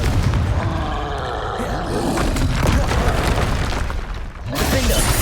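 A Confringo explosion spell bursts in the Hogwarts Legacy video game, a booming blast buried in dense, loud combat noise, with a voice shouting over the din.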